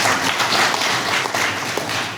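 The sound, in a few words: audience applause at a Ram Katha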